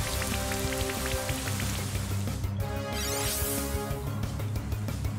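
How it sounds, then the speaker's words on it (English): The Rain Dance move in Pokemon Brilliant Diamond on Nintendo Switch brings a steady hiss of falling rain, washing over the game's looping background music at an even level throughout. "Rain dance, really?"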